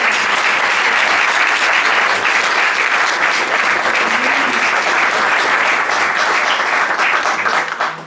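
Audience gives sustained, loud applause for the cave exploration team at a presentation of new finds from the El Linar cave, a steady wash of clapping that holds throughout.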